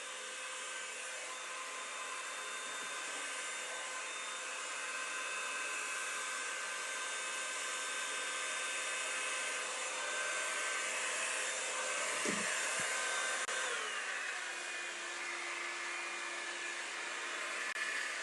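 A hair dryer blows on hair during braid take-down, a constant close, loud airy roar that holds steady throughout with a brief click near the end as the setting changes.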